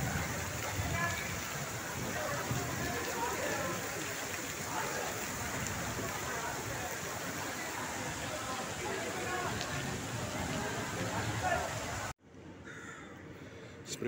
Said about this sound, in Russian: Дождик начался.